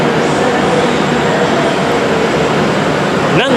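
A train at Crewe railway station gives off a dense, steady rumble and hiss of engine and platform noise, with a brief squeal near the end.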